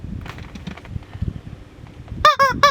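A squeezed rubber chicken toy lets out a quick series of loud, honking squawks near the end, following a stretch of low, rumbling background noise.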